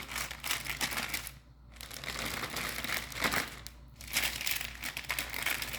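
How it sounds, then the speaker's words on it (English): A plastic baggie crinkling and rustling up close as chicken is put in it for sous vide cooking, in bursts with brief pauses, loud and crackly throughout. "And I put my chicken in a baggie."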